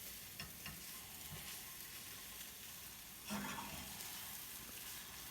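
Eggs frying and being stirred in a pan, a steady soft sizzle with faint scraping, and one louder stir or turn near the end.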